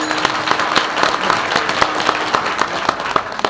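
A crowd at a village religious festival claps steadily to welcome the state cooperation minister, giving a dense run of applause with sharp individual claps standing out near the listener.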